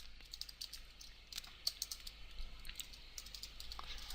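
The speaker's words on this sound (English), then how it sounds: "I want to type" Quiet, close typing on a computer keyboard, a steady irregular run of light key clicks with a few sharper taps, entering text into design software, with no speech.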